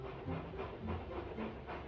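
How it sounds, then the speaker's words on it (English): Steam engines in the Trainz video game puff into a yard, with soft, rhythmic chuffs of hiss repeating steadily at a distance, faint and without talk. "James and Edward puffed into the yard."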